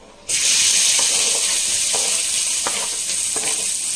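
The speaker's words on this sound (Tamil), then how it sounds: "கட் பண்ணி வச்சுருக்க ஆனியனும் க்ரீன் சில்லி சேர்த்துக்கிறேன்" Chopped onion and green chili drop into hot oil with a sudden loud sizzle. The frying hiss stays steady and close, with a few faint stirring clicks and no talking.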